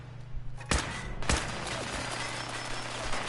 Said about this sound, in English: Some loud miniguns sounding like turrets.